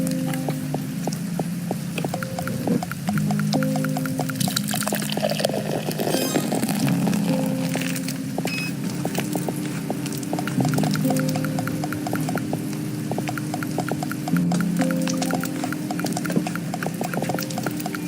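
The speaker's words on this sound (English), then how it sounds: "That's what I call an aggressive pour." Beer is poured aggressively: a long, fizzing, splashing pour with scattered clattering, set against a steady tonal background throughout.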